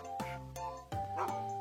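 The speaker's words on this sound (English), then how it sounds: "What about a dog? A dog says woof," A dog gives two or three quick, close woofs with short gaps between them, loud against a quiet background.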